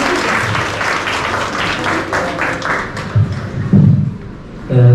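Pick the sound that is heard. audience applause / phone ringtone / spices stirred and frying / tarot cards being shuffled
audience applause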